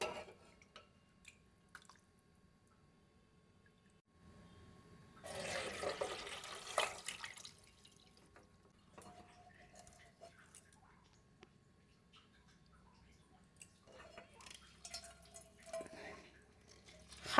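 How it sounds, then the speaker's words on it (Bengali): Wet milk solids for rasmalai squeezed by hand to press out water, giving soft squishing and dripping bursts, with one louder sustained splash of water in the middle amid quiet kitchen pauses. "হাতে করে চিপে চিপে যতটা পারি জল বার করে নেব।"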